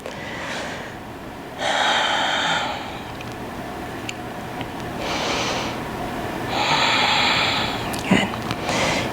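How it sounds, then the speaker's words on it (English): Slow, deep breaths during a morning yoga session, three or four long airy inhales and exhales spaced a few seconds apart, fairly close and steady over a quiet background. "Breathe."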